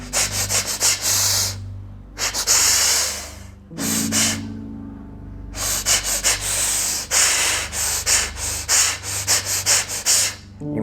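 Deep, forceful breaths in a chaotic breathing exercise, alternating bursts of rough exhalation and inhalation with short breath-holds between; close, loud and rhythmic, no talking.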